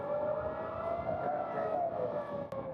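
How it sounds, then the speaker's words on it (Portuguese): Air raid sirens sound a warning of an approaching Iranian missile, a steady, loud wailing tone that holds without a break for the whole stretch, with no talking. "sirenes acionadas por um míssil iraniano se aproximando soaram"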